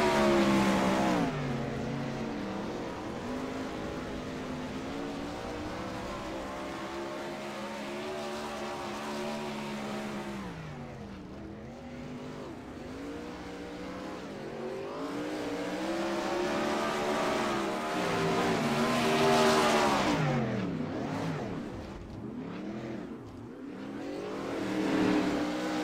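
Spike chassis race cars roar down the front stretch at Williams Grove, a loud, sustained engine drone with pitch rising and falling as the field accelerates toward the green flag and swells again later, with no talk over it.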